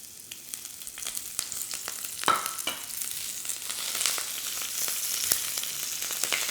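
Squid and prawns sizzle in hot oil in a wok-style pan, a steady close crackling hiss with scattered sharp pops of spitting oil throughout.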